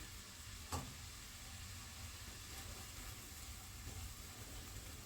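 Onion frying in a pan while risotto couscous is being made, giving a steady, soft sizzle throughout with one brief clack near the start, and no talking.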